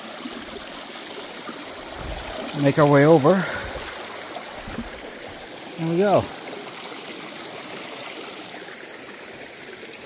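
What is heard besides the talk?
brook water flowing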